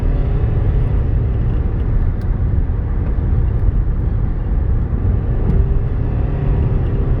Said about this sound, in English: we definitely got some tire noise